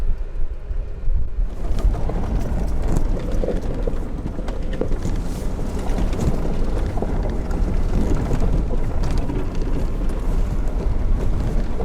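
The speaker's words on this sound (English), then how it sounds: "It's way too windy to fly a drone up there." Strong wind on a trail up Dona Ana Peak, New Mexico, buffets the microphone with a continuous low rumble and gusty roar throughout, loud and close, with no talking.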